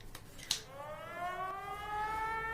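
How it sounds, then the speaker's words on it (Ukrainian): An air raid alert siren in Ukraine winds up from a low pitch into a steady rising wail after a brief click, sounding moderately near and continuing alone without talk. "Увага! тривога. Повітряна тривога."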